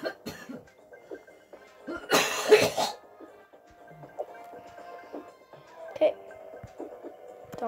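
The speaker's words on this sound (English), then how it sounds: "Don't mind that, some coughs." A burst of harsh coughing rises sharply midway, loud and close, with quieter throat-clearing sounds and faint background noise around it.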